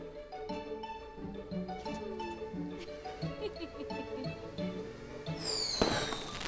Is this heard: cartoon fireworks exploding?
yes